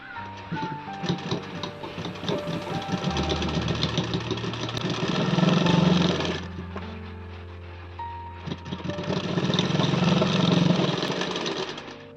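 A sewing machine runs in two long rattling bursts, stitching a seam on a six-panel petticoat, with a short quiet pause between the runs.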